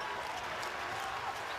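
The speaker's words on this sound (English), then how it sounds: "claps in anticipation." Arena crowd at a FIBA Basketball World Cup qualifier between Cuba and Argentina clapping steadily in anticipation, a dense continuous wash of applause with a faint murmur of voices underneath.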